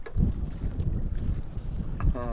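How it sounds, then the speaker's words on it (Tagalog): Strong gusts of wind buffet the microphone with heavy low rumbling, continuous throughout, while ultralight casting for fishing. "Hangin na guys, lakas ng hangin."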